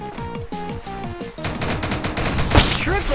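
Rapid automatic gunfire in Free Fire crackles in dense overlapping bursts, loud and close, with pitched tonal game effects at first and heavier shooting building toward the end.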